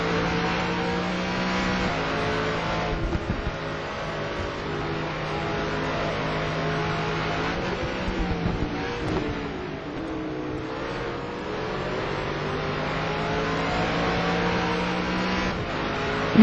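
A racing car drives down the straight at the Magny-Cours circuit during an ETC Black Cup race, its engine holding a sustained harmonic drone with gear changes and shifts in pitch, steady and moderately loud, no speech.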